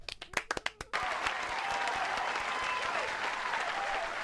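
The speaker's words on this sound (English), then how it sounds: "Put your hands together for him." An audience at a Qatar-themed live quiz applauds a contestant, beginning with a few loud, separate claps that quickly swell into steady, dense clapping that holds evenly to the end.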